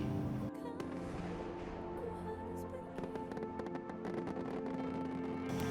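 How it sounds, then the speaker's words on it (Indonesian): Fireworks and firecrackers pop and crackle continuously through a busy outdoor scene, a steady dense layer of bursts at moderate distance with faint voices mixed in. "Udah lama banget aku ngeliat petasan."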